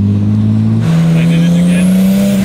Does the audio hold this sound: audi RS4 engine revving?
yes